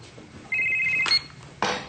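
A cell phone rings at a dinner table, sounding two bright electronic tones, then a short clatter of dishes before the ring starts again, loud and close.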